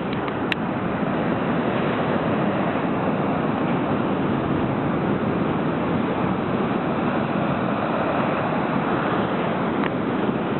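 Ocean waves roll steadily onto Cabo do Mundo beach in Matosinhos, a continuous broadband surf wash with constant intensity and a little wind noise, no voices.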